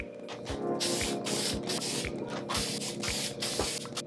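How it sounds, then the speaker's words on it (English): Spray adhesive hisses from a can onto wood and fabric while a vintage Porsche 911 trunk cover is upholstered, coming in repeated short close bursts with brief gaps between them. "So I've sprayed on the wood and on the fabric."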